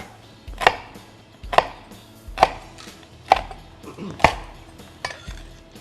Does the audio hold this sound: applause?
no